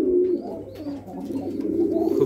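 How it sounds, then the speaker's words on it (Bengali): Jhorna satin pigeons cooing close by in a loft, soft throaty repeated coos in uneven bursts over a quiet background, with no talking. "এরা হচ্ছে ঝর্ণা শার্টিন। আর তাদের ডাক দেখুন"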